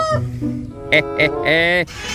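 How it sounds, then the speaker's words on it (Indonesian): A rooster crows among other farm animals, giving several short harmonic calls close by and then one longer drawn-out crow, with a human voice heard briefly at the start. "Yang ini ayam berkokok."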